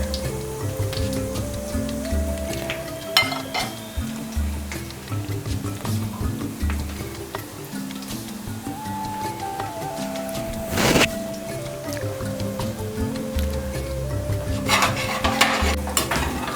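Cashews fry gently in a pan over a low flame, with soft sizzling and repeated scraping stirs of a spoon against the pan, under steady background music.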